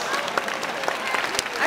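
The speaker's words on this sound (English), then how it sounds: "Give them a little round of applause." Brief, light applause from an audience at a dog heelwork-to-music training demonstration, a smattering of claps over a murmuring crowd with talk mixed in.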